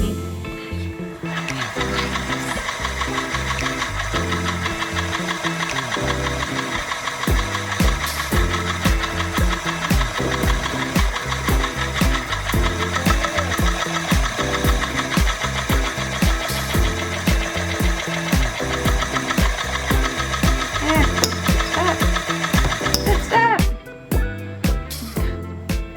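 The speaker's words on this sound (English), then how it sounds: "I'm spinning yarn on a wheel." An electric spinning wheel twists yarn with a steady, rhythmic mechanical whirr and thump that runs without a break, then stops abruptly near the end.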